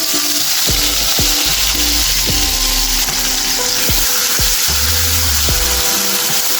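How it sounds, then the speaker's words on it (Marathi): Finely chopped tomato fries in hot oil over medium heat, giving a steady loud sizzle with repeated scraping strokes of a spoon stirring through the pan; no voices. "टोमॅटो छान असं तेलामध्ये व्यवस्थित असं आपण परतून घ्यायचं आहे"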